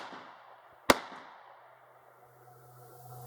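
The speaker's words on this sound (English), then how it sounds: "I'm going to shoot that can on the left" A single sharp shotgun blast aimed at a can, loud and sudden, followed by a short fading echo and quiet outdoor background.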